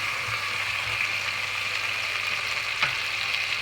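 Rabbit juices and ghee sizzling steadily in a pan while being stirred, a soft continuous fry with a few faint scraping knocks from the spoon.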